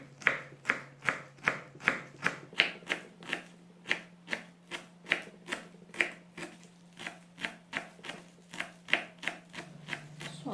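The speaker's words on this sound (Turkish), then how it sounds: "Maydanozlarımızı da ince ince kıyalım." A knife finely chops parsley steadily and quickly on a cutting board, with evenly spaced crisp strokes continuing for several seconds, close and fairly quiet, with no talking.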